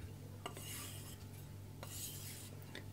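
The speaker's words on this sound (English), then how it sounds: "We are going to strop this as well. Just do a couple ones on each side." Knife blade drawn across a strop after whetstone sharpening, giving faint rasping strokes over a steady low hum, with a couple of passes on each side and short scrapes spread through the quiet background.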